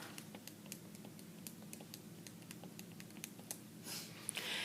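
Rapid, light key presses tap out data on a calculator keypad, a close, steady patter of small clicks with a slightly louder rustle at the end.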